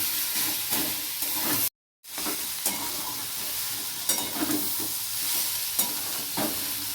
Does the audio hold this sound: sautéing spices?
yes